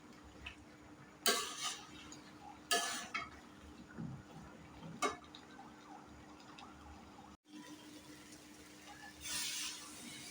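Spoon clatters against a pan while fish head and potato curry is stirred and fried, three or four sharp metallic scrapes and knocks over a low kitchen hum, followed by a steady sizzle.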